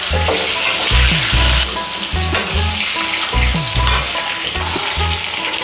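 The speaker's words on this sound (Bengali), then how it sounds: "আলুগুলি কিছুটা ভাজা হতে হতেই দিয়ে দিচ্ছি আস্ত পেঁয়াজগুলো" Potatoes frying in hot oil as whole onions are tossed in, a loud steady sizzle broken by repeated low scraping thumps of stirring, close up with no voices.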